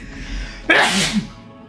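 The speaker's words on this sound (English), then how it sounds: "Oh, big sneeze." A single loud, close sneeze bursts out sharply after a quiet moment, then trails off into a short breathy tail.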